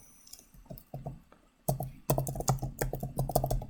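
A computer keyboard is typed on up close, a few hesitant taps at first, then a quicker, louder run of keystrokes.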